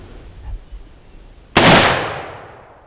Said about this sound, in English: Put a great shot on a young banteng just then